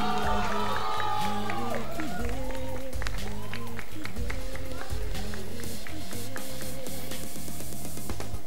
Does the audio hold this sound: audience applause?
yes